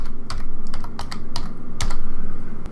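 Brisk typing on a computer keyboard while entering a surface boundary name in Civil 3D software, with irregular bursts of close, crisp key clicks and short pauses over a low background hum.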